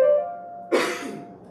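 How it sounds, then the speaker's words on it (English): A single sharp cough bursts out partway through, loud and close, after a steady tone from a preacher's microphone during a church sermon, with a faint tail of room reverberation. "Again, I hadn't coughed until I got up here."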